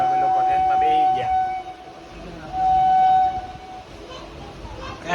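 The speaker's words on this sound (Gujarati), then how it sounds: "ફાઇનલી મિત્રો ટ્રેન આવી ગયો, અમે લોકો ટ્રેનમાં બેસી ગયા." A Porbandar–Rajkot passenger train runs with a loud rumbling roar. A long steady horn tone sounds twice, fading between blasts, and people speak in the background.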